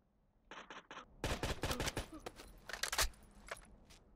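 Gunfire in the Rainbow Six Vegas 2 video game: three quick clipped shots, then a dense rapid burst of automatic fire and a few scattered later shots, loud and sharp against a quiet background.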